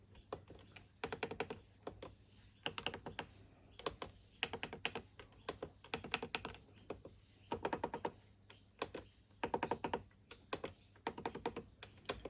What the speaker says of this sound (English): let's give the keypad a test out